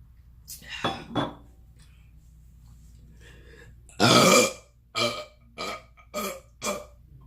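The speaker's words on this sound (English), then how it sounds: "I can't make a good burp on camera" Repeated burps from someone eating chicken fried rice: a couple of faint ones, then one loud, drawn-out belch followed by four shorter, punchy burps in quick succession, with light clinking of dishes between them.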